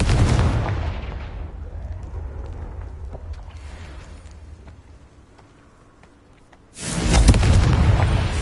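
A Confringo fire spell explosion in Hogwarts Legacy, a loud booming blast that decays over several seconds, then a second heavy burst of noise hits near the end.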